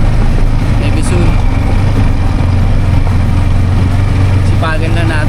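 Yamaha XSR 155 motorcycle being ridden along a rural road, its engine a steady low drone mixed with wind rush, loud and continuous.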